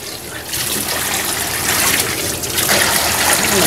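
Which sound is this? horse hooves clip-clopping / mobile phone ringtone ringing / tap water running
tap water running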